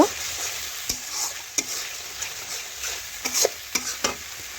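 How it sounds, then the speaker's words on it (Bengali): Spice paste with a splash of water fries in a pan while a spoon stirs and scrapes it, a crackling sizzle broken by sharp clinks and knocks at irregular intervals, close and fairly loud, no voices. "আর একটু সামান্য পরিমাণে আমি জল দিয়ে দিচ্ছি এখন নাড়াচাড়া করে মিশিয়ে দেখুন মশলাটার কাঁচা গন্ধ চলে যাওয়া পর্যন্ত একটু কষিয়ে নেব"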